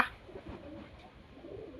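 A pigeon offered for sale gives a soft, low cooing call nearby against quiet background noise.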